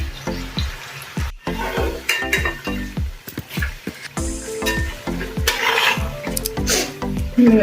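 Fish pieces for a homemade fish pickle frying in oil, a sizzle running beneath frequent clinks and scrapes of a utensil stirring in the pan, with brief voice sounds.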